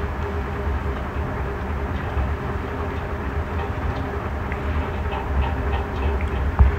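A train at Madanapalle railway station gives off a steady, loud low rumble that runs unbroken for several seconds, with no voices.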